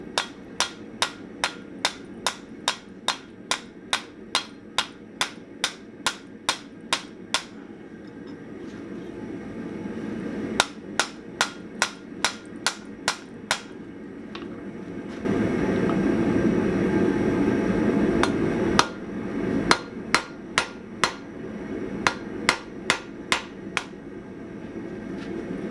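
Steady, ringing hammer blows on hot steel at a forge in quick even runs, pausing between bursts, over a constant roaring background hum.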